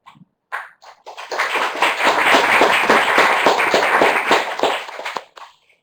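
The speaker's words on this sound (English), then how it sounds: "We can hear you clapping, thank you." A remote audience claps steadily after a bioinformatics training talk, a dense burst of many hands that swells for about four seconds and then thins out, with a few scattered claps before and after.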